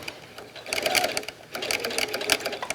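A sewing machine stitching velvet slowly with a walking foot, a close, rapid mechanical whirring and clatter in two runs with a brief slowdown between them.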